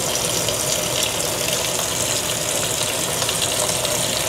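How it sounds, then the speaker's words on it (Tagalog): Steady, dense bubbling and hissing of water boiling hard in a pot while cooking lomi noodles with shrimp, continuous and close, with no voices. "Patayin muna natin, kumukulo na masyado"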